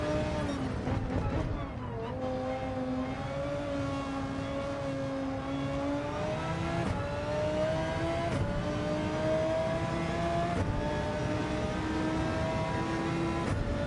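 A Castrol Honda NSX race car in Gran Turismo 7 drones loudly and continuously, its engine note climbing and dropping through gear changes with sharp shifts in pitch, heard close.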